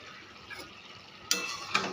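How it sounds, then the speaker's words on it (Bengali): A cooked cauliflower dish stirred in a pan after a little sugar goes in, low quiet sizzle with two brief scraping spatula strokes near the end. "আর একবার নেড়ে চেড়ে নিচ্ছি।"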